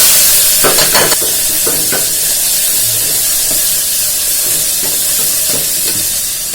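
Onion and green chilli frying with masala in a pan for spicy pulao, giving a steady, loud sizzle with periodic scraping stirs throughout and no talking.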